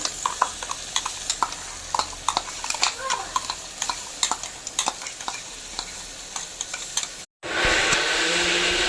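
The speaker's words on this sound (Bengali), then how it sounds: "এবার আদা রসুন বাটা দেবো।" Ginger-garlic paste frying with onions in oil, stirred with a spatula: steady close sizzle under a run of sharp scraping stir strokes, then a brief gap and a louder, denser hiss near the end.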